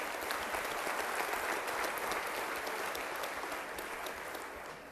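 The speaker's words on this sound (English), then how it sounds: "Let's do a quick round of applause." A conference audience gives a round of applause after a talk, dense continuous clapping from a full room that holds steady, then slowly tapers off.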